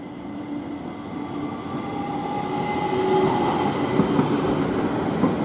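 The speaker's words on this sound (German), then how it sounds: "hier haben wir jetzt die S-Bahn von Brenner Richtung Innsbruck" An S-Bahn commuter train heading from Brenner towards Innsbruck rumbles past nearby, a steady rolling roar with faint wheel clatter that grows slightly louder over several seconds.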